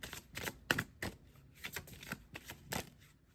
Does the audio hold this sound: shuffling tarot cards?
yes